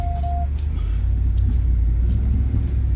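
A pickup truck drives on a back road after a winter hog hunt, its steady low engine rumble and road noise filling the cabin without pause and with no talk.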